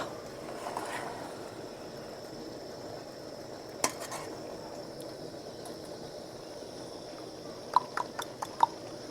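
Quiet kitchen ambience with a few sharp clinks of a utensil against a pan near the end, as brinjal and potato curry is stirred.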